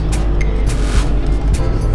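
A classic VW Beetle engine rumbles loudly and continuously, with intermittent sharp knocks and rattles from a loose part banging in rhythm.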